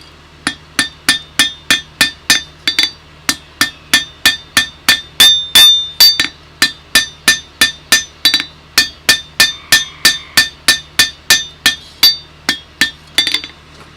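Hot steel is hammered on an anvil while a flint striker is forged: about thirty close, ringing blows fall in a steady, even rhythm with no pauses, and nobody speaks.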